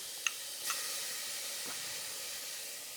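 A steady, soft hiss of shallots sizzling in a pan, with a couple of faint clinks near the start, no voices.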